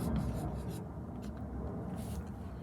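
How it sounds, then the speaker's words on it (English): A marker or pen writing on a paper kite for a Khmer festival craft, with soft scratchy strokes in short bursts over a constant low background rumble. "I'm gonna write, go fly a kite"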